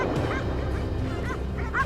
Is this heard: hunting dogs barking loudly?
yes